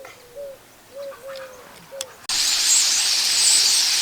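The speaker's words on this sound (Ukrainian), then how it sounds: "Тут у нас птахи налетіли на груші." Birds gather in a pear tree to feed, giving a few short, squealing coo-like calls spaced about half a second apart. A sudden loud, steady hiss then takes over the rest.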